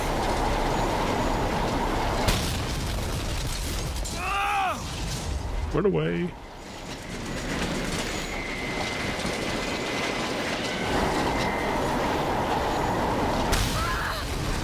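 A train rumbles steadily along its rail track in the BioShock Infinite video game, a loud continuous roll with a few sharp squeals and whooshes, while a voice speaks briefly over it.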